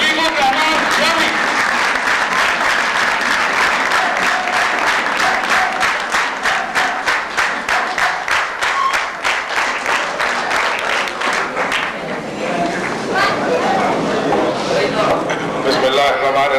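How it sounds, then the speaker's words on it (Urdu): A standing audience claps steadily and loudly at a silver jubilee celebration of an association of the blind, the applause running dense and continuous, then thinning toward the end as voices rise underneath. "تمام حضرات کھڑے ہو کر تالیاں بجائیے"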